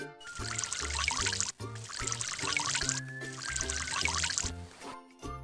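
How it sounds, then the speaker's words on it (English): Water pours steadily onto plants during watering, three pours of about a second and a half each with short gaps between, heard over soft background music. "She likes to water the plants early in the morning."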